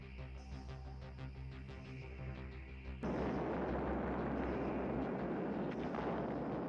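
An atomic bomb test detonation hits suddenly as a loud, sustained broadband roar that cuts in abruptly and rumbles on without letup, following a steady droning tone.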